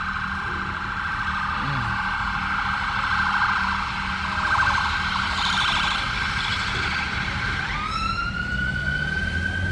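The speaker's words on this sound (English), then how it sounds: "That's all I've heard all day is ambulances going to and from all day long." An emergency siren sounds outside near St John's Church in Stratford, London E15, steady and held at moderate distance, then shifting pitch toward the end as the vehicle passes, with background street noise.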